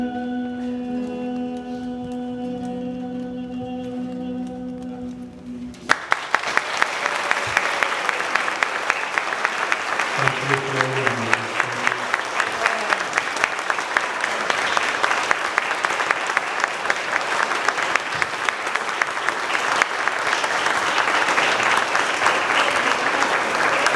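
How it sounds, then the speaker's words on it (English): Audience applause at a fifth grade moving-up ceremony, a long, dense round of clapping that starts abruptly after music ends and continues steadily throughout, with brief voices mixed in. "Can we give him one more round of applause?"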